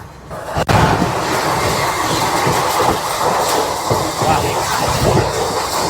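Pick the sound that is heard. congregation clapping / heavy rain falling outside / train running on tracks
train running on tracks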